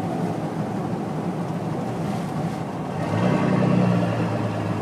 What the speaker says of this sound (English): Hey, there's a boat.